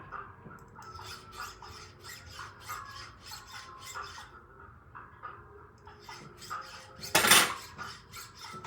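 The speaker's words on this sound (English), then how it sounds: "This is a cut 4 half round ring file I'm using on this at the moment" A cut 4 half round ring file rasps against an 18ct yellow gold wedding band at a jeweller's bench: repeated short scraping strokes in a steady rhythm, close and moderately loud, with one louder, harsher burst near the end.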